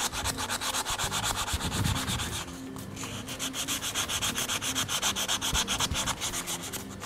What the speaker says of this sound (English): we just basically work our way round and remove as much of the rust scale as we can in a bulk way